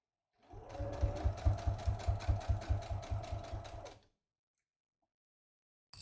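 Sewing machine stitching a seam on a drawstring project bag, a steady rapid run of close, regular needle strokes for about three and a half seconds before stopping, then a brief restart at the end, with no talking.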